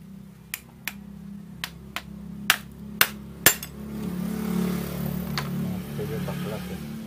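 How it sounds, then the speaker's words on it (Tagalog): Six sharp metal hammer taps ring out at a steady pace as a stand fan bushing is knocked out with a flat screwdriver, followed by a low hum with faint handling noise. "Tapos pukpukin nyo dito."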